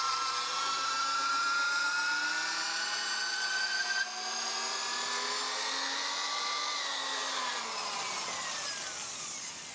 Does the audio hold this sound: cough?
no